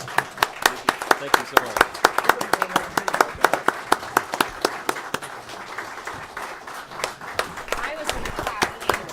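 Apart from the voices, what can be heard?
audience clapping at a town council meeting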